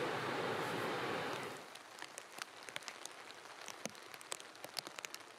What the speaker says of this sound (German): Während es immer wieder regnet und es wirklich viel zu kalt ist